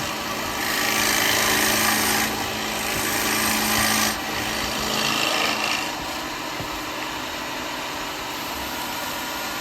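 Wood lathe turning a wooden cowboy hat, a steady broadband whir with scraping and rubbing cuts that swell and ease, close and continuous with no talk.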